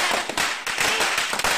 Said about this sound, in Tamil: சார் அங்க பாருங்க சார், வெடியை எப்படி விடுறானுங்க பசங்க.